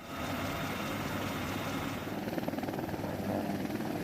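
A military helicopter with a four-bladed rotor makes a steady, moderately distant rotor thump and engine drone, with a rhythmic chopping pulse that grows clearer midway.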